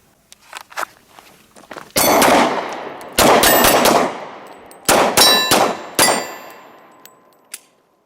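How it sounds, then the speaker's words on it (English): A Gen 4 Glock 23 pistol chambered in .40 caliber fires a series of loud, sharp shots at an outdoor range, spaced in small bursts over several seconds, with metallic clinks and light shuffling between them. "shooting the Gen 4 Glock 23 in 40 caliber"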